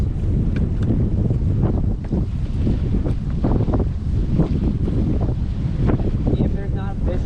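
Strong wind buffets the microphone on a fishing dock on a windy day, a loud continuous low rumble with gusting surges and faint water lapping underneath throughout.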